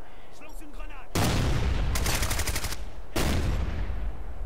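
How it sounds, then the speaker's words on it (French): A frag grenade in the shooter Ghost Recon Future Soldier, with loud, broad explosive blasts and rapid gunfire bursts following a brief stretch of quieter game sound, with talk mixed in. "je vais jeter ma frag à peu près par là"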